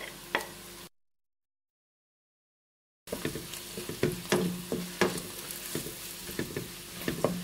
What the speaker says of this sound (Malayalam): ഇതിലേക്ക് മഞ്ഞൾപ്പൊടി ഇട്ട് നന്നായിട്ട് മുരിക്കുക.